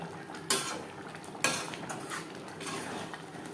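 Spices and garam masala being stirred into a vegetarian cauliflower curry in a pan, with two sharp utensil knocks against the metal and a continuous scraping, mixing rustle close by.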